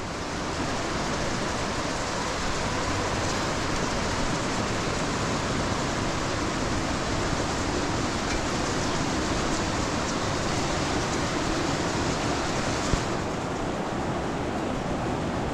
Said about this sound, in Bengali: এই হচ্ছে অলোকানন্দা